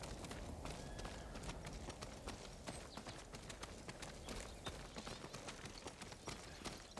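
Rapid horse hooves clip-clop at a running pace in the video game Ghost of Tsushima, a dense, steady rhythm of hard clacks up close.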